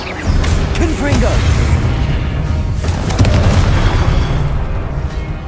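Confringo blasting-spell explosions from the Hogwarts Legacy video game boom loudly and repeatedly over a dense, rumbling battle din, with a voice shouting spell names on top.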